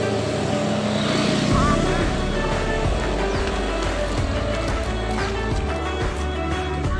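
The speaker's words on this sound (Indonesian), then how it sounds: "Tuh, ada motor." A motorcycle travels past on a street during a walk, its engine drone steady and fairly loud beneath continuous traffic noise, with people talking over it throughout.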